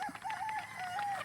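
Chickens on a game farm give a short, faint burst of clucking and crowing-like calls, wavering tones repeating several times over a breathy outdoor background.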